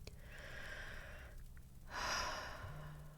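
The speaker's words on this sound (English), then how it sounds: "take a slow breath" A slow, deep breath drawn in and let out during a calming body-awareness exercise, heard alone at close range, with a soft inhale swelling to a louder airy exhale.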